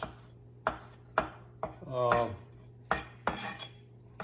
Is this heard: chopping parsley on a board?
yes